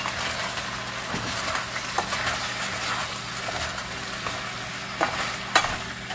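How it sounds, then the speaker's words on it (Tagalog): Chopsuey vegetables being sautéed in a hot pan, a continuous dense sizzle with periodic stirring scrapes and clanks, close and steady. "Gigisa na natin ito."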